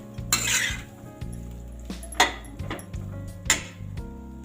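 A metal spoon stirs and scrapes a veg cheese pasta mixture in a pan, giving irregular clinks and clatters against the cookware over a low steady hum.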